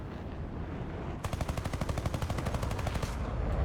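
Rapid aircraft cannon fire from a Mystere IIA jet in a flight combat video game, a fast, evenly spaced burst of about two seconds over steady engine rumble, with no talking.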